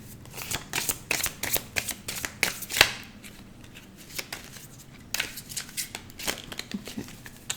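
A deck of tarot cards is shuffled by hand, close and crisp, in repeated bursts of riffling and sliding snaps with short pauses between.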